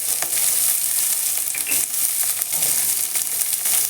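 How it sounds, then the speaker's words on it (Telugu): Onions and ginger frying in a pan, a loud, close and continuous sizzle with crackling bursts and the scrape of stirring throughout. "కాస్త వేగనిద్దాము."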